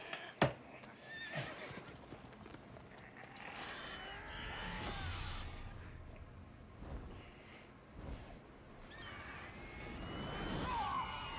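A horse in The Witcher video game whinnies several times over hoof clip-clops and faint mechanical background noise, the calls fairly close and moderately loud.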